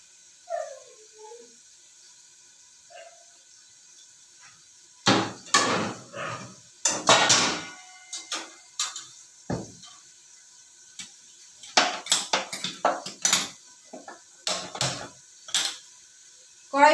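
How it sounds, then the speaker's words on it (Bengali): A wok set down on a gas stove in a home kitchen, giving a series of close metallic clanks and scrapes in bursts, with quiet gaps between them and no talk. "কড়াই বসিয়ে দিলাম"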